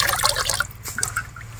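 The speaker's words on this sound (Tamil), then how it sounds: "ஊத்து இளநீ ஊத்து" Tender coconut water pouring in a village outdoors, a brief close splashing and gurgling stream of liquid filling a vessel.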